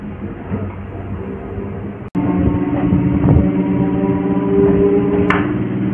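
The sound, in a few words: local train arriving at Belur Math station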